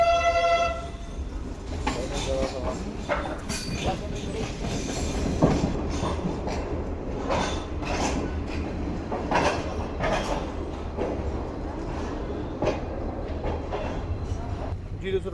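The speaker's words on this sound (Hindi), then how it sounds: "हमारी ट्रेन अप्रोच बना रही है कोटरी जंक्शन रेलवे स्टेशन पर" Passenger train approaching Kotri Junction railway station on a safari trip from Karachi toward Mohenjo Daro, with rolling clatter and rumble throughout, a horn near the start, and people talking over it.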